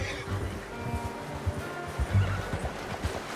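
A horse in the Red Dead Redemption 2 video game whinnies once, close and fairly loud, with soft hoof clip-clop and low ambient game sound underneath.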